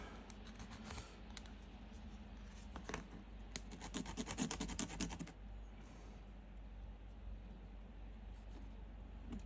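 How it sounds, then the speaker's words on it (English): Small plastic pieces from a DeAgostini Moomin House model kit get sanded by hand in quick rasping strokes. The rubbing is close and fairly quiet, with a dense burst midway before it settles into a soft background hum. "I'm just going to sand off"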